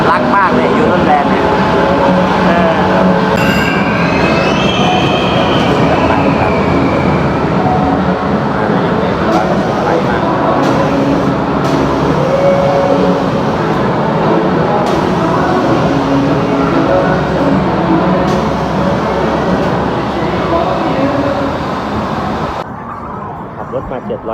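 A small ride-on train at the Yoyo Land amusement park rumbles along amid a busy, noisy crowd, with people talking over the steady mechanical drone and a brief squeal near the start.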